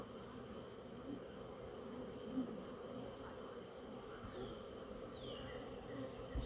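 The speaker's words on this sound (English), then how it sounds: "It's fun to look at bees, folks, when they're doing their little bee dances and working the hive" Honeybees buzz steadily in a dense, close swarm around a hive, a continuous droning hum with individual bees passing near the microphone.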